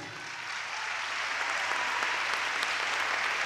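Audience applause at a drag gala in Arrecife for an event sponsor, a dense, continuous wash of clapping that swells slightly and holds steady, heard from within a large crowd.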